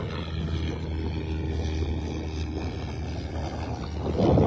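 Large-scale model aircraft taking off nearby, a steady close engine drone and roar that swells toward the end, heard outdoors with no talk.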